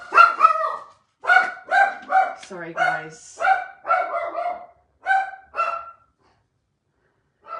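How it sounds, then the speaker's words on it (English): A dog barks in a rapid string of loud, close yaps and yips, with a person speaking briefly near the end. "please don't bark"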